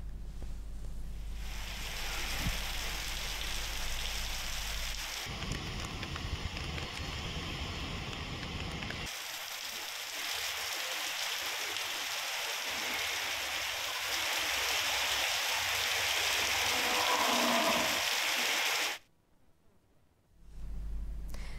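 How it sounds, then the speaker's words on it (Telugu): Heavy downpour in Hyderabad, heard as a dense, loud wash of broadband noise that keeps shifting in texture and then stops abruptly near the end. "హైదరాబాద్లో కుండపోత వాన కురిసింది."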